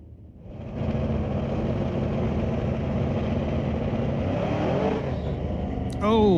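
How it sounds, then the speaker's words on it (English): A drag race car launches off the line at Mission Raceway Park with wheel spin, the engine roar climbing quickly and holding loud before a second engine surges in at the end; a commentator talks over it. "Oh, lots of wheel spin off the line for John."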